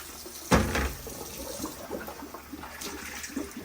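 Hot noodle cooking water poured out of a pot into a kitchen sink, a sudden loud splash followed by a steady rushing gush that trails into gurgling drainage.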